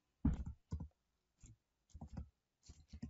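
Short bursts of clicking keys as a command is typed on a keyboard, quick clusters of taps separated by brief pauses, close and fairly quiet.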